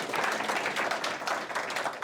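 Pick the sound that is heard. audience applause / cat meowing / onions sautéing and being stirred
audience applause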